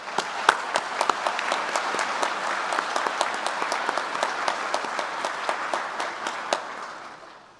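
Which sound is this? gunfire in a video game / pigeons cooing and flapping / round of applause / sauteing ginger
round of applause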